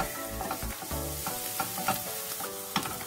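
Three garlic cloves being stirred in a frying pan while making spinach samosa filling: a soft sizzle under repeated close scraping and tapping of a utensil against the pan, uneven in rhythm, with no talking.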